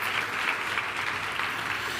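A church congregation applauding together, a dense, steady wash of many hands clapping for a couple of seconds in a reverberant hall.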